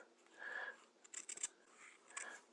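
Soft snipping of scissors cutting fabric while trimming a rolled hem, a few quick close cuts in a cluster, faint and quiet against a low background hiss.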